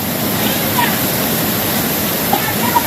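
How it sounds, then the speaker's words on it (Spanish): Floodwater rushes loudly from an overflowing ravine during heavy flooding, a steady roaring torrent close by that fills the whole moment, with a few faint splashes on top. "Se desbordó también una cañada en esa parte."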